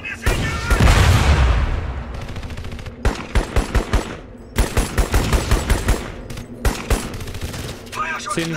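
Rapid bursts of automatic gunfire and booming shots ring out in the combat video game Crysis Warhead, loud and close in clustered volleys with short pauses between them.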